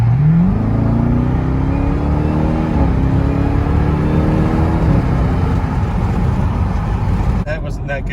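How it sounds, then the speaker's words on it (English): A Jeep Trackhawk with an LMI Legmaker cold air intake revs hard, engine and exhaust rising in pitch through a pull and then holding, loud and close, cutting off near the end. "you could hear the exhaust, like when I did that pull, you hear the exhaust over the intake"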